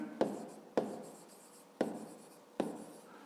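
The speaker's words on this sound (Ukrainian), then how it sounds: "записуємо відповідь, пишемо відповідь" A pen writes on paper while a math answer is put down, giving four short, close scratching strokes, each starting with a sharp tap and trailing off, spaced unevenly over a few seconds with no talk.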